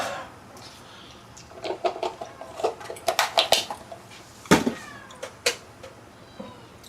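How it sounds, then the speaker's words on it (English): A cat meows a few times indoors amid scattered kitchen clatter and clinks of dishes, the cries moderately close and the clatter intermittent. "You can probably hear a cat meowing in the background."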